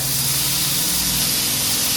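Chopped tomatoes hitting hot tempering oil for Maharashtrian tomato saar give off a steady, loud, close hiss that holds evenly through a brief moment.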